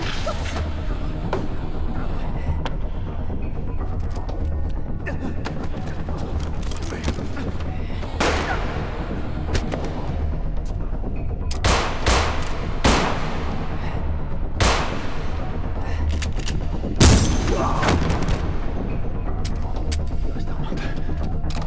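Gunfire and explosions in a French-dubbed action film, with repeated sharp loud bursts and booms scattered over a constant noisy battle din, while voices shout.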